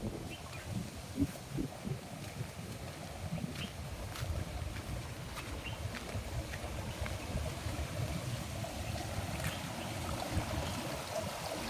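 Steady rushing of a forest stream in the Nallamala forest, continuous and fairly loud, with a windy hiss over it and no voices.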